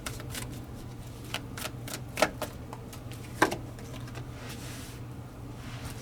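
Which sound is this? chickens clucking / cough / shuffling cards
shuffling cards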